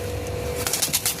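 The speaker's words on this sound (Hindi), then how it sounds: "कबूतर सारा नस्ली है, उड़ने वाला है, प्योर पंजाब का।" Purebred Punjabi Malwai flying pigeons giving a short, soft coo at close range over a low background hum, with no talking.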